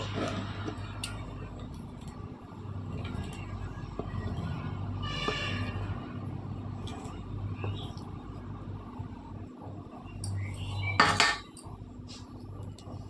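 A knife cuts potato into triangle shapes, giving scattered taps and clatter against a board. Louder clanks come near the middle and toward the end, over a quiet, muffled background.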